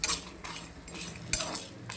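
Whole spices for a mutton kuzhambu masala are dry-roasted in an oil-free pan, a metal spoon scraping and tapping the pan in two sharp strokes with soft rattling between, close and with no voices.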